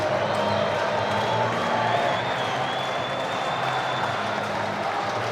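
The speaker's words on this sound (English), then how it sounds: "Very excited crowd." An excited stadium crowd at a 2015 Rugby World Cup match between Argentina and Namibia cheers, whoops and applauds in a continuous loud roar.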